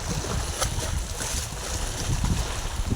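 Water spilling over the Nayka dam at full level makes a steady, loud, broadband rush that holds without pause.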